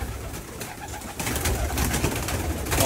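Teddy pigeons at a bird sale in Oman coo repeatedly at close range, soft rolling calls layered over one another against light background noise.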